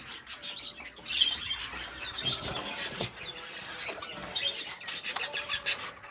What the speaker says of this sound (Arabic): تعال نشوف بقية الطيور يلا وهي بتاكل